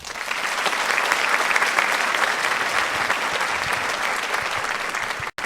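Sustained applause from a concert audience at a music festival, honoring a high school choral collaborative pianist; dense, steady clapping holds at an even level throughout, then cuts off abruptly near the end.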